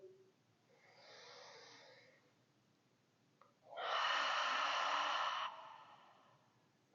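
Deep yoga breathing close up: a soft, drawn-out inhale followed by a longer, louder, breathy exhale lasting about two seconds, with no talking.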